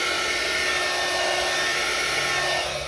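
Air blown over a resin mold to clear bubbles, a close, continuous hairdryer-like whoosh with a thin tonal hum, even and loud throughout.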